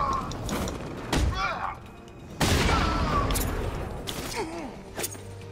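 Gunfire in Batman: Arkham Knight, a few sharp shots and thuds among mechanical game sounds, with someone talking over it.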